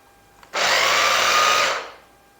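A small herb or coffee grinder bursts on for about a second, a loud whirring buzz as it chops sawdust into fine fibres, then spins down to quiet.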